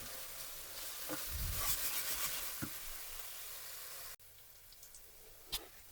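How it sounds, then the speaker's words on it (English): Ginger and garlic fry in a pan for palak chicken, a steady close sizzle with occasional stirring scrapes and soft knocks, continuing alone without talk before dropping to a quieter crackle near the end. "these have now been cooking for a further 3 minutes since I've put in the ginger and garlic"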